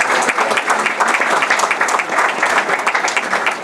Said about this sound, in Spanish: Así que pido un nuevo aplauso para la conferencia.